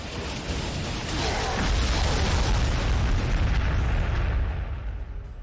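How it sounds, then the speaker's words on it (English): Artillery barrage in the Warhammer 40,000: Sanctus Reach strategy game, a loud, sustained rumbling explosion that roars steadily for several seconds before tapering off, with no talk over it. "Artillery."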